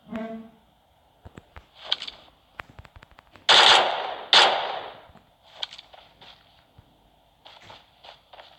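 Thompson submachine gun fire in the video game PUBG comes in several sharp bursts of rapid shots, with two louder sustained volleys in the middle and quieter scattered shots around them, close and punchy.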